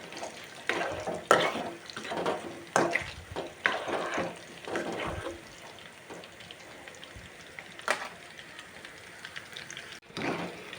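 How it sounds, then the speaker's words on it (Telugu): Raw banana slices frying in hot oil, giving a steady close sizzle broken by several louder crackling, stirring bursts early on that thin out later, with no talk. "ఆయిల్ వేడైన తర్వాత ఫ్రై చేసుకోవడానికి ముక్కలని ఆయిల్లో వేసాను."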